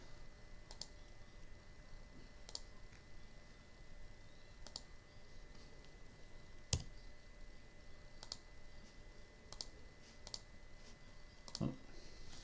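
Sparse, quiet mouse clicks in architectural design software, a few single clicks spaced irregularly over a steady low hum, with a slightly louder click near the middle and another near the end.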